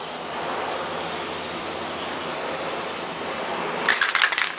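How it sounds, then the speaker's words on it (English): Steady spray paint hissing continuously for several seconds onto an airsoft sniper rifle, close and fairly loud, ending with a few short sputtering bursts as the nearly empty can runs out. "when you spray paint, you want to hold your spray paint can about a foot away"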